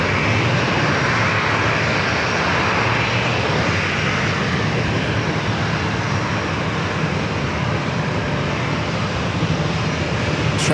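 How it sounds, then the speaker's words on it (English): A Japan Airlines Boeing 787-9 Dreamliner on final approach to runway 27 at San Diego drones loudly and steadily, a sustained broad engine roar with no talk. "Japan Airlines, the 787-9 Dreamliner heading to Tokyo Narita. Making those final turns, heading down here to runway 27."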